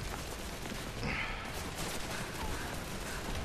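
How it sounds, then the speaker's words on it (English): Dense, continuous machine gun fire in the game Call of Duty 3, a relentless crackling barrage at close range filling the whole stretch without letup, with a faint voice briefly underneath. "The machine gun is ripping me up, man."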